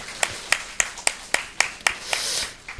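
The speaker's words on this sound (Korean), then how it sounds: "우리 박수로 한번 축복하겠습니다" Church congregation clapping during a Sunday morning worship service to bless a visiting family, a run of about eight distinct, fairly sharp claps at a steady rhythm, ending in a brief wash of broadband noise.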